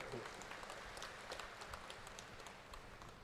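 An audience at an international millet convention claps steadily in a large hall, a soft, even patter of many hands continuing without a break.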